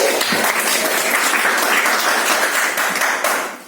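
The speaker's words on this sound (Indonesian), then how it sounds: "Tepuk tangan dulu kita semuanya." An audience claps loudly through a school film competition judging session for high school students in Kebumen, a dense, steady wash of applause that fades slightly at the end.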